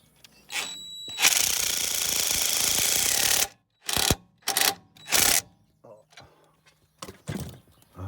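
Bursts of a ratchet wrench tightening bolts on car suspension control arms and shock absorber links: one long rattling run followed by several short clicking bursts, with some talk in between.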